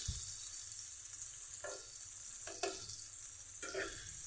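Chopped onions sizzle in oil left over from frying fish, a quiet steady hiss broken by a few soft stirring scrapes spaced about a second apart.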